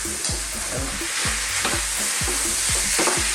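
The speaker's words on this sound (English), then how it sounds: "I'm just cooking those potatoes at the beginning there." Potatoes fry for an aloo keema minced beef and potato curry, a dense close sizzle cut by quick, evenly spaced scraping strokes of a spoon; no one speaks.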